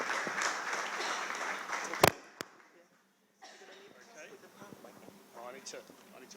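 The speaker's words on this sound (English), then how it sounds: "A round of applause, guys." Conference audience applauds a speaker introduced to the podium, a dense burst of clapping that cuts off abruptly after two seconds, followed by a sharp knock, a short near-silence and then quiet talk.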